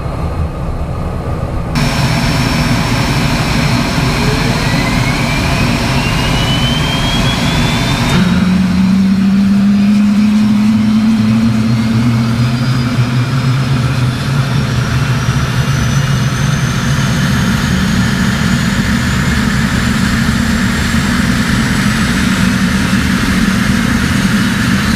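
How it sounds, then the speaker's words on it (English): A training jet's number one engine spools up from start, a rising whine climbing steadily over a loud, constant roar that grows fuller and settles into a steady idle, close and continuous with no talk. "Engine number 1. Start."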